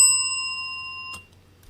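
A single bright bell ding rings out at the start with a clear sustained tone that slowly decays, followed by a brief soft knock and then near silence, heard at a car show on a cold winter day.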